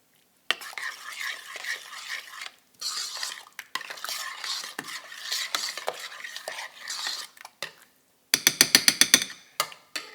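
A spoon scrapes and stirs shepherd's pie filling with HP sauce in a pot, making soft, intermittent close-up swishes and clinks. Near the end comes a quick burst of sharp, rhythmic metallic taps.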